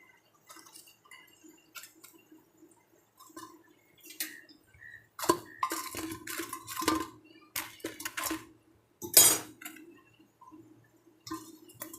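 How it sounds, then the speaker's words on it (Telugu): Garelu fritters being dropped into sugar syrup in a pan, heard as sparse metal utensil clinks and clatters with soft wet splashes and drips, close by and quiet, in an otherwise silent kitchen. "ఇప్పుడు ఈ గారెలని మనం అందులో వేసేద్దామండి ఇలాగా."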